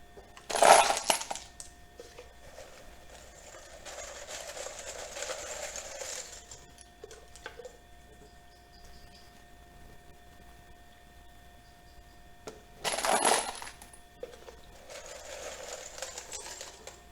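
Brass cartridge casings are shaken to knock loose steel cleaning pins, giving two sharp metallic rattling bursts near the start and later, with softer jingling shakes between them and near the end.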